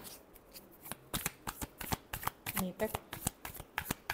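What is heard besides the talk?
shuffling tarot cards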